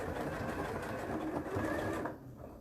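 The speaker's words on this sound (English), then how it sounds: "we're going to go back to the machine and stitch along that line" A sewing machine runs steadily as it stitches across the corner of a padded, zipped bag, a close, continuous whirring rattle that eases off and quiets near the end.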